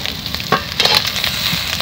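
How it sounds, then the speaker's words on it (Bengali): Fried eggs dropped into a pan of hot spiced masala, a steady crackling sizzle punctuated by a few louder spits and stirring scrapes, close and with no voices. "এখন আমি ভেজে রাখা ডিমগুলো দিয়ে দেব।"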